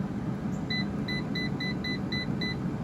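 An air fryer's control panel gives a string of about eight short, bright beeps at an even pace as the temperature is set to 400 degrees, heard over a steady low hum.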